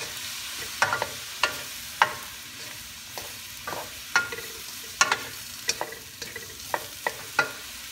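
Mushrooms and carrots are stir-fried in a pan for shrimp lo mein, with a soft sizzle underneath and repeated sharp scraping clacks of the utensil coming at irregular intervals.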